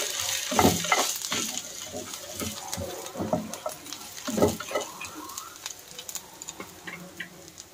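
Onions frying in a pan for a Kannada-style fish curry, with soft sizzling under repeated stirring scrapes and light utensil taps against the pan, heard close with no talking.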